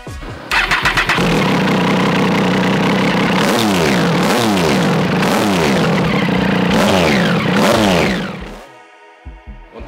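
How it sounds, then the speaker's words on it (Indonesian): Triumph Street Triple 675R three-cylinder motorcycle with an SC Project exhaust starts up, then rises and falls through several loud, close revs before dropping back to a rough idle. "sebelumnya kita dengerin dulu deh suara mesinnya"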